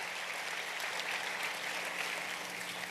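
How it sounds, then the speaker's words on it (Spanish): Church congregation clapping together in worship, a dense, steady patter of many hands filling the room, moderately loud and continuous throughout. "Dele palmas con todo su corazón al Señor de la gloria."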